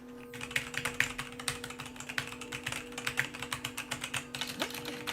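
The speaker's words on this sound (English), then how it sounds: "There is nothing quiet about my keyboard." Fast, steady clacking from a loud computer keyboard, typed in quick bursts during a game, with a constant low hum underneath and nobody talking.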